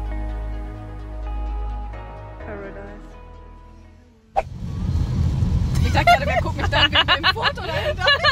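A car starts moving: after a quiet tonal stretch, a sudden thump gives way to a steady road rumble with engine hum, while people chatter loudly inside the vehicle over the driving noise.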